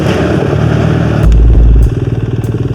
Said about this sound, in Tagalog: Ay, motor lang yan.